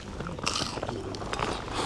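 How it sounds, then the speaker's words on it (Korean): Crispy fried chicken karaage is bitten into, giving quiet, close crunches and crackles, with a few sharper snaps scattered through the short stretch. "튀김이 진짜 바삭해요."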